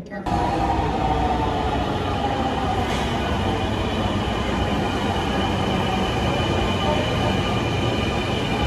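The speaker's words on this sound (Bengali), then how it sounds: "ঠিক সময় এসেছি, আর ট্রেন আসার 1 মিনিট বাকি মাত্র।" Metro train arriving at a station platform, a loud continuous rumble and roar of wheels on rail with a faint squeal, sustained without a break.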